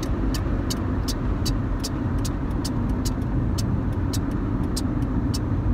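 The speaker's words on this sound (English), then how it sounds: "the turning signal blinks, right?" Regular clicking ticks repeat at a steady pace over a continuous low road rumble from inside a moving car.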